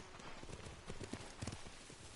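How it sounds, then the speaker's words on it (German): Horse hooves clip-clop in a steady, quick rhythm in the video game Ghost of Tsushima, a soft, close trotting beat over a constant ambient backdrop. "Da ist ein Pferd."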